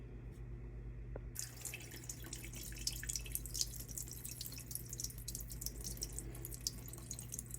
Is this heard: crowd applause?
no